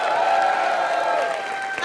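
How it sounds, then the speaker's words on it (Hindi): A comedy show studio audience applauds and cheers in a continuous, loud crowd roar with clapping, with whoops mixed in and tonal music or voices running underneath. "तालियां"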